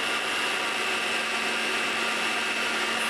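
A whisk works continuously in a bowl, a steady, dense whirring hiss with a constant high tone, close and loud, with no voices over it.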